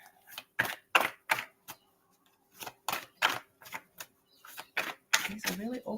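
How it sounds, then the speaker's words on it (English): Oracle cards being shuffled by hand, giving a run of sharp, papery riffling bursts in irregular clusters with short pauses between them, close and fairly loud. "These are really awkward to shuffle today."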